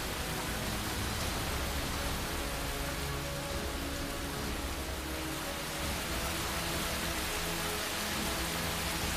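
Heavy rain pours steadily in Cherrapunji, a dense unbroken hiss of drops on surfaces, loud and constant with no voices.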